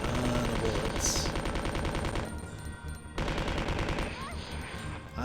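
Rapid bursts of gunfire from the PS1 video game Resident Evil 2, loud and continuous at first. Sharper separate shots follow after a brief drop.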